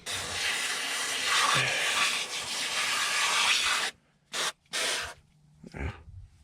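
Carpet and upholstery cleaner sprayed onto an oil stain in a car's carpet: a long, steady close hiss of spray for about four seconds, then a few short separate bursts.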